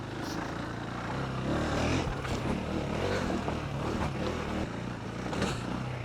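A KTM 390 Enduro motorcycle riding a leaf-covered dirt track with square-edge bumps and ruts, its engine droning steadily under heavy wind and rumble, with no clear revs standing out.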